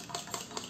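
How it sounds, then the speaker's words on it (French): A fork stirring galette des rois mixture in a bowl, giving soft rhythmic scraping strokes, about three evenly spaced pulses over a faint steady hum, close and quiet. "maintenant, toi, tu peux mélanger avec une fourchette là-dedans"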